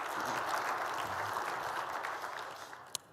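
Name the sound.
convention audience applause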